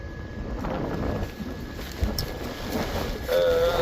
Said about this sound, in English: the wind, of course, it has to be windy on a day where I want to test something like this out